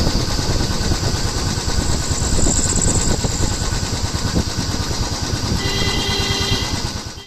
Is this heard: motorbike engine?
yes